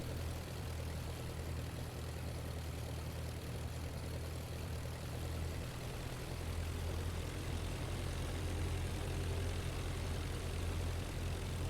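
Steady, continuous aircraft engine drone from IL-2 Flying Circus during a landing, a dense low rumble at even loudness throughout with no talk.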